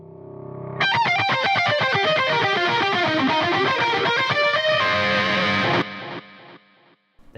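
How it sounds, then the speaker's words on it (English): Distorted electric guitar plays a fast melodic solo through a delay effect with no reverb, loud and dry, repeating notes echoing in rhythm before the line stops and the last repeats fade out. "So here's the guitar solo with the delay with no reverb."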